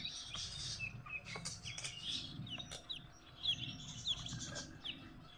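Desi chickens at a village market, a hen and a rooster, making faint, intermittent clucks and chirps with occasional wing flutters, quiet and somewhat distant.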